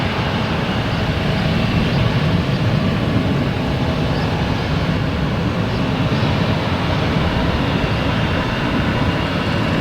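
Airliners at Boston Logan Airport, a Southwest jet and a Korean Airlines jet lined up on parallel runways 22 right and 22 left, give off a steady, loud, broad engine roar that holds constant throughout with no talking.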